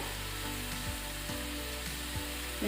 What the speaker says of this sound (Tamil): இது நல்லா கொதிக்கட்டும்.